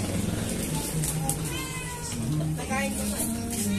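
A pregnant cat meows repeatedly in short rising cries, close by, over continuous talking and background chatter.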